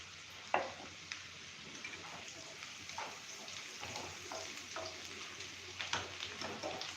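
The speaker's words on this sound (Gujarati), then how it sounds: "ડુંગળીને આપણે એકદમ સરસ રીતે મસ્ત એવી સોતળી લેશું." Onions sautéing in a pan for a potato and capsicum masala curry, a soft continuous sizzle with occasional stirring scrapes and clinks, faint and close.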